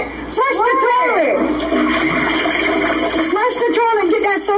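Rushing water from a toilet being flushed. The steady noise runs throughout while voices talk loudly over it.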